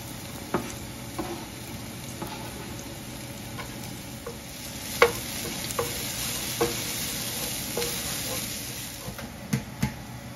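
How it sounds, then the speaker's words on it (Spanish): Onion fries in oil in a pan that was just used for frying cheese, a steady close sizzle and hiss broken by scattered sharp crackles and pops. "le vamos a poner otro poquito de aceite para freír nuestra cebolla"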